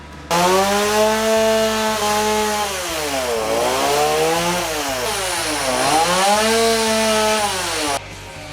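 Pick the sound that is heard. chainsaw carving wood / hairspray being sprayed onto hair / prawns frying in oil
chainsaw carving wood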